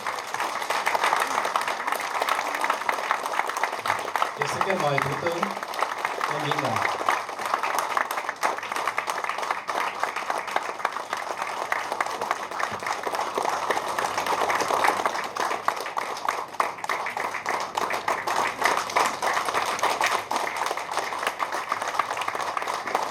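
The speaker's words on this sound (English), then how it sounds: "give a round of applause to welcome Prime Minister Đào Minh Quân to the stage" An audience claps to welcome Prime Minister Đào Minh Quân to the stage, a long, sustained patter of many hands that runs steadily throughout, with a brief spoken announcement early on.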